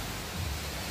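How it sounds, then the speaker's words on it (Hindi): Steady rushing water from a large drainage channel in Islamabad during heavy rain at night, a continuous broadband roar heard alone without voices. "यहाँ पे एक नाला है, उस नाले की आवाज़ इस वक्त आपको सुनाई दे रही होगी।"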